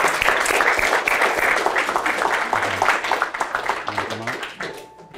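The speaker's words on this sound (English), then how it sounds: "So everybody give Greg a round of applause." Audience clapping for a volunteer at a body language demonstration, starting full and gradually thinning into scattered claps, with talk and a voice emerging toward the end.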